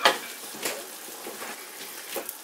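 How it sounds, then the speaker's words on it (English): Meatballs sautéing in a pan, a steady close sizzle broken by a few scraping stirs and light utensil knocks against the pan, with no talk. "in the pan, get them sauteing. Let them do their thing."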